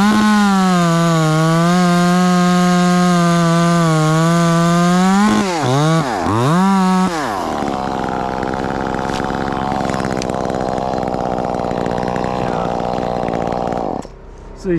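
A chainsaw cuts a heavy, decayed leaning tree, first revving at a steady high pitch, then bogging and surging in wavering bursts before settling into a lower, strained drone as it bites into the wood.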